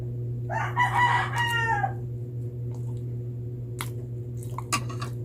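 A rooster crows once, a clear cock-a-doodle-doo that rings out nearby over a steady low hum, followed by scattered small clicks and rustles.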